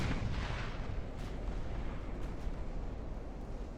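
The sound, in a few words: battleship big guns firing, video game Ultimate Admiral: Dreadnoughts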